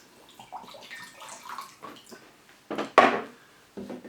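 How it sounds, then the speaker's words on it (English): Water poured into a bamboo ring flower arrangement base, soft trickles and small knocks against the wood, then one brief louder splash near the end, quiet overall. "Of course we have to do a little bit of water in"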